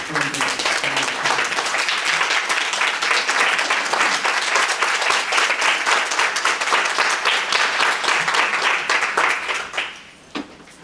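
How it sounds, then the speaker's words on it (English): Loud sustained applause from a large assembly crowd at a national town hall meeting, greeting the organization's 16th National President, dense and even for about ten seconds before dropping away quickly. "Let us give a round of applause to our 16th National President, Dr. Glenda."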